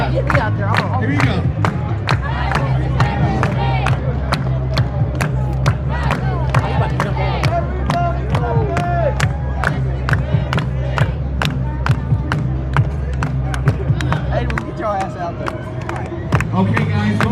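A street crowd at a Knicks watch party in Manhattan claps in sharp, regular unison beats while people cheer and shout under a steady low rumble of city noise.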